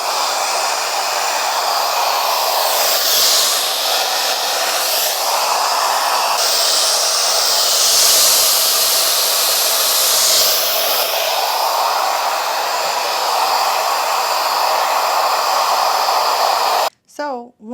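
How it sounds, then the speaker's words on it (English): Hair dryer fitted with a diffuser drying curly type 3 hair, a loud steady blowing roar running continuously with slight shifts in tone as it moves, cutting off abruptly near the end. "I can start to encourage more by scrunching and using my diffuser from the ends up to the root"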